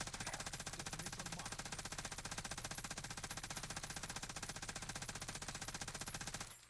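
Sustained rapid automatic fire from a Stoner machine gun in Warzone, a dense mechanical rattle that runs unbroken for about six and a half seconds, then cuts off abruptly with no talking.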